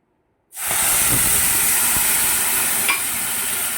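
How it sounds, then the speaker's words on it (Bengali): Semolina roasting in a pan for Navratri sooji prasad gives a loud, steady sizzling hiss that starts abruptly after a half-second of silence and continues without a break. "সুজিটা বেশ ভালোভাবে লাল লাল করে ভাজা হয়ে গেছে"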